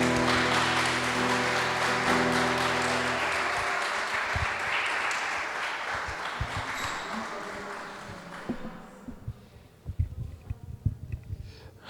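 A church congregation applauds during a Sunday celebration service: broad, sustained clapping fills the room over a held musical tone, then thins toward the end as isolated louder claps and a few voices poke through.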